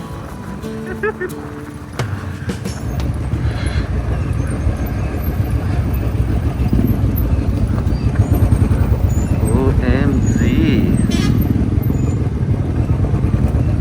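A group of Royal Enfield motorcycles fitted with loud non-stock aftermarket silencers rides toward the highway, their deep engine rumble continuous, heavy and close throughout, with people talking and exclaiming over it.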